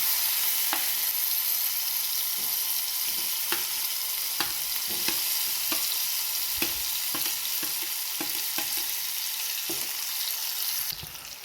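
Garlic paste and a spice mixture fry in a pan for a ridge gourd dish. A dense, steady sizzle carries throughout, broken by scattered sharp clicks and scrapes from stirring. There is no speech.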